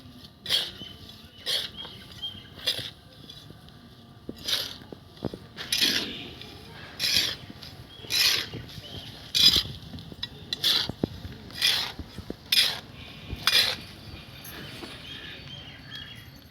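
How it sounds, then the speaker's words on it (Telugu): Potting soil for vegetable plants being mixed by hand with insecticide powder, heard as a series of close, crisp rustling and scraping bursts repeating at an uneven pace, with no talking. "చూడండి, ఈ విధంగా బాగా కలుపుకోవాలి."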